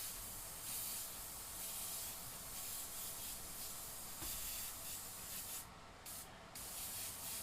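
An airbrush sprays a fine, steady hiss of paint to mist texture onto a custom-painted aviator skull, continuous and close with brief pauses, no talking.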